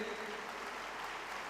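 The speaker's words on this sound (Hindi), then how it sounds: "एक बार जोरदार तालियों से स्वागत करेंगे" An audience at an anniversary event applauds to welcome a woman from Indian Railways, producing a dense, even roar of clapping that stays fairly faint and distant throughout.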